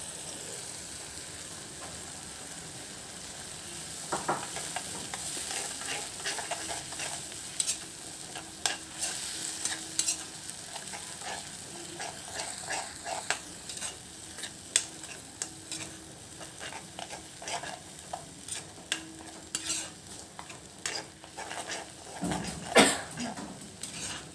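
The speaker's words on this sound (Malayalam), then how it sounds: "ഇതിൻ്റെ അകത്തേക്ക് ഒരു ബെല്ലിട്ടിട്ട് നന്നായി ഇളക്കി കൊടുക്കാം" Mango pickle being stirred in a hot pan, a low continuous sizzle under scattered clicks and scrapes of the spoon, with a louder clatter near the end.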